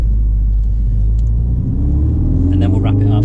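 A Ford Focus RS rumbles over a roundabout, a deep steady engine drone that climbs in pitch as it accelerates near the end, heard from inside the car under brief talking.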